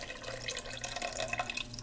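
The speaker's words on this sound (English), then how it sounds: "I'm gonna go ahead and pour this extra water in" Water is poured into a pan holding vegetable puree for a vegetarian chili, a soft, steady splashing trickle heard close up and on its own.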